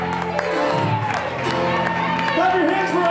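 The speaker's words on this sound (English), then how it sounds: "Clap your hands for our cheerleader." An outdoor crowd on Flats East Bank claps and cheers for a cheerleader performing, a moderate, steady wash of cheering and whoops with people talking over it.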